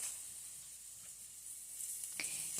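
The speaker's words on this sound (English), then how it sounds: "now I'm going to add the ground turkey back into the potatoes" Faint, steady sizzle of ground turkey and potatoes frying in a pan on a turned-down burner, a soft continuous hiss with a couple of light clicks near the end.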